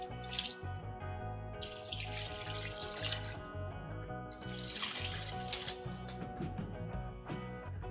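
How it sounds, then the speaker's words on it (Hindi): Water pours steadily into a metal pot, a continuous splashing gush with faint background music. "अब मैं इसमें तकरीबन 2 से 3 ग्लास पानी ऐड करूंगी"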